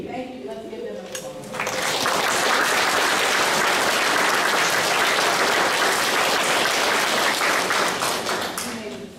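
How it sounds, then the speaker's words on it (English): An audience at an 8th grade promotion ceremony breaks into loud, sustained applause after a brief spoken moment, the dense clapping holding steady for several seconds before easing slightly. "Let's give them a applause."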